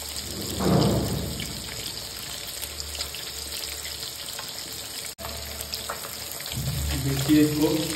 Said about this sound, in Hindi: इसको पलट के फिर से दूसरी तरफ से फ्राई कर लेंगे